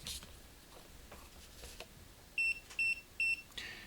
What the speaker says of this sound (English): the meter is now beeping and telling me that we have high voltage.